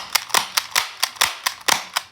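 Gel blaster fired in a quick series of about nine sharp, close snapping shots at an even, rapid rhythm, each a crisp crack with a short tail.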